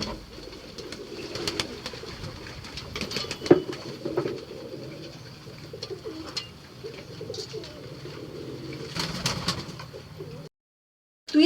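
Pigeons coo softly inside a home coop, a low continuous murmuring with occasional wing flaps and rustles, fairly close, with no talk over it.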